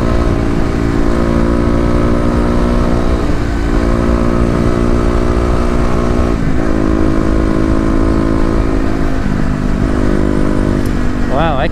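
A Kawasaki KLX250 motorcycle pulls uphill with fresh fuel tuning, its engine droning loud and close as the revs climb and dip in waves across the ride, with a voice heard briefly.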